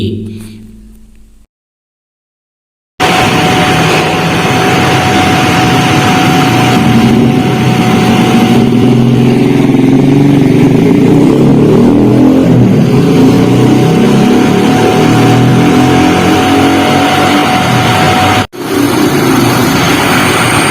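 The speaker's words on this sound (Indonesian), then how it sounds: "Seperti itulah tadi bunyi dari pompa air Sanyo" After a brief silence, a Sanyo P-WH137C electric water pump starts and runs with a steady, loud mechanical hum and whir, nearly unchanging, with one brief dip near the end.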